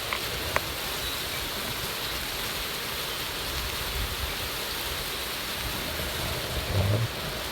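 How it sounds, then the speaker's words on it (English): Hail coming down during a thunderstorm in Sedona, a steady dense hiss of pellets striking surfaces outdoors, constant and fairly loud throughout with a few sharper knocks. "It's hailing right now."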